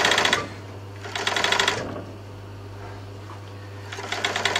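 A blind hemming felling machine stitches a fabric hem with white thread in three short bursts of rapid mechanical clatter, separated by pauses, over a steady low motor hum.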